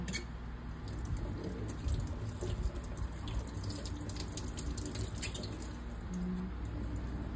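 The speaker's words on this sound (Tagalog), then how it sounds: "Dapat hugasan mo yung dahon ng saluyot." Saluyot leaves being washed under a running kitchen tap, a steady close stream of water splashing and trickling throughout with faint handling noises and no talk.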